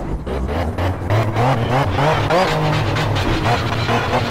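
A Mazda MX-5 in the Project Cars racing game revs loudly through repeated acceleration pulses, engine pitch rising and falling with shifts and some tire squeal, close and continuous.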